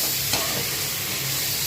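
Tomatoes sautéing in a pan for millet (samai rice) tomato rice, a steady close sizzle and fry hiss with faint stirring scrapes running throughout the brief moment, no voices.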